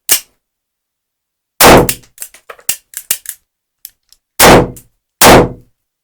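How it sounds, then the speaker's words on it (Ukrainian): Loud, sharp blasts from a Retay PM shotgun ring out close by, four in all, with metallic clicks and clatter of handling between them, and a cartridge misfire on one shot. "перший постріл нормальний, другий постріл, е, патрон дав осічку"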